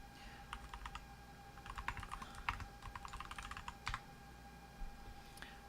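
Rapid keystrokes on a computer keyboard as a terminal command is typed, a dense burst of light clicks with short pauses, close and fairly quiet over a steady background hum.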